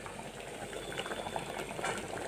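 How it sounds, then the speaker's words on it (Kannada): Water bubbles at a steady rolling boil in a pot, a continuous close gurgling and popping with no voices. "ಈಗ ಇವನ್ನ ಇದಕ್ಕೆ ಹಾಕಿ ಒಂದು 7 ರಿಂದ 8 ನಿಮಿಷ ಕುದಿಸ್ಬೇಕ್ರಿ"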